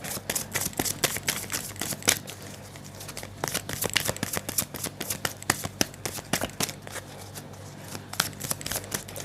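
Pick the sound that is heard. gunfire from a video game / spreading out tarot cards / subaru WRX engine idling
spreading out tarot cards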